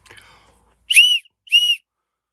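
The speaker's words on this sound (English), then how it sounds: "See that? Very simple whistle." Two clear, bright blasts from a carved wooden spirit whistle, each about a third of a second, following brief faint rustling; loud and close with a pure, slightly breathy tone.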